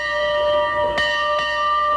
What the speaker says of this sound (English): you guys never want to hear that bell on their sidelines